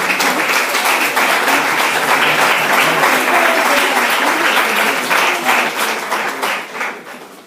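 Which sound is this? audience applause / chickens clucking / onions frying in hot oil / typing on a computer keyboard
audience applause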